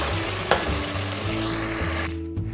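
Chicken with yogurt frying in a pot for murgh chanay, a continuous sizzle with a low hum underneath, a sharp knock early on, and stirring near the end.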